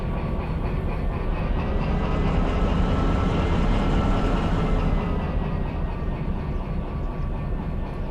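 Steady rumbling diesel locomotive engine under heavy throttle in the train simulator Derail Valley, a continuous loud drone with rail clatter holding for the whole stretch, no voices.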